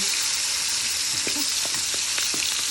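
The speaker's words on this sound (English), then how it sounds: "you want to hear that sizzle. That means that it's really ready" Crispy-skinned meat fries in a pan with a loud, steady sizzle and scattered pops and crackles, heard up close without talking.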